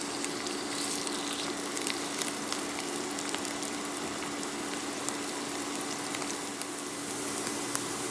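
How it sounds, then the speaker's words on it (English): A vegan pulled pork mixture with bay leaves sautés in a pan, producing a steady, even sizzle with a faint low hum underneath, no voices. "And let that saute for about 10 minutes."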